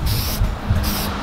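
A steady aerosol hiss sprays in two short bursts with a brief pause between, close and fairly loud, over a low rumbling background, painting a 1/10 scale RC car body from about 12 inches away.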